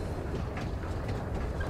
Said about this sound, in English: We're taking this damn tram.